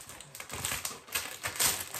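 Fast, clicky typing on a SteelSeries Apex 5 mechanical keyboard with blue switches, a quiet, busy patter of key presses heard close up without talk.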